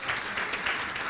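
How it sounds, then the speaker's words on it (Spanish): Audience applauds after a talk on board games as a cultural field in Latin America, a short, even burst of clapping from a room of listeners. "Un gran aplauso para el Nico."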